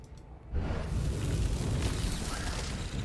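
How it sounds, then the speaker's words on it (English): A burst of exploding plants blows up an enemy unit in Age of Wonders 4, starting with a sudden low boom about half a second in and followed by a sustained rumbling blast that fills the rest of the clip. "Oh, the exploding plants got him."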